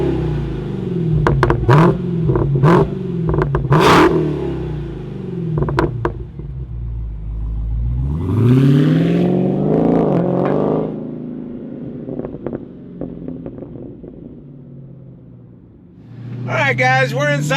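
A 2023 Dodge Challenger Demon 170 rumbles loudly, then swells in a rising rev roughly midway before settling back to a lower growl, with another surge near the end.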